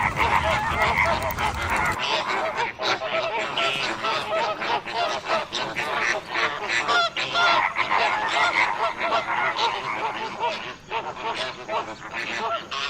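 Flamingos in the African wild honk and gabble in a dense, continuous flock chorus, loud and close throughout with overlapping calls.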